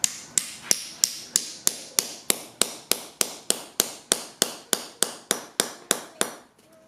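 Steady, evenly spaced hammer blows drive nails into carpet tack strip on concrete, about twenty sharp strikes at a regular rhythm, loud and close, with no talking.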